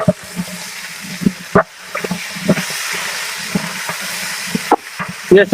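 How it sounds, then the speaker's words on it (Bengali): Garlic paste fries in a large pot for a 20 kg broiler chicken dal fry, with a moderate sizzle under repeated clanking stirs and scrapes of a ladle against the vessel, close and uneven in rhythm. "রসুন বাটাটা একটু ভালোভাবে ভাজা হওয়ার পরে বাদামি কালার চলে আসার পরে আমরা দিয়ে দিব চার কেজি পেঁয়াজ বাটা"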